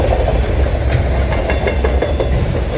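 A long Norfolk Southern 315 freight train led by Union Pacific SD70M locomotives rolls steadily past at night in Lakewood, Ohio, a loud continuous rumble of wheels and cars with faint clicking joints and no talk.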